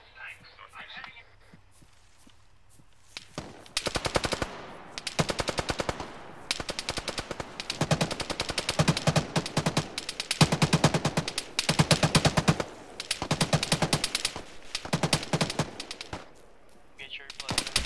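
Repeated bursts of automatic gunfire in a PC military shooter game, loud and close, rattling in dense volleys with brief gaps between them, with people talking over the shooting.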